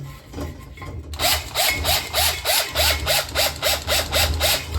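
A power drill with a brush attachment scrubs inside a vessel. It runs in a fast, steady, rhythmic rasp of repeated strokes that starts abruptly after a low hum, loud and close.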